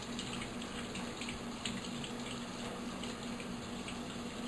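Running tap water over meat being washed by hand in a sink, a steady close splashing gush of water that continues throughout without talk.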